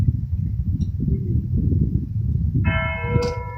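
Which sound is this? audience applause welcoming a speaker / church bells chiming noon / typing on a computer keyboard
church bells chiming noon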